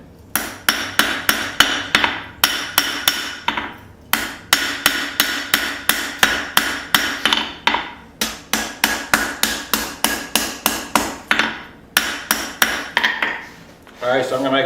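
Hammer blows forge a small knife from a steel bolt, dozens of sharp, ringing strikes in quick even runs broken by brief pauses, loud and close with no talking.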